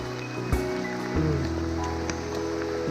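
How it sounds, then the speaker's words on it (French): Heavy rain pours through a forest on a Pyrenees mountain hike, turning the path into a running stream; a steady, close, dense hiss of drops with a few sharper knocks near the microphone. "il pleut tellement que là normalement ça c'est un chemin, mais c'est devenu un ruisseau"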